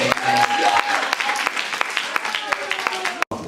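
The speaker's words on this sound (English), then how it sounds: "can y'all just clap your hands at somebody?" Church congregation clapping their hands, a mix of scattered sharp individual claps and a busier patter, close and fairly loud, with speech and voices running over it.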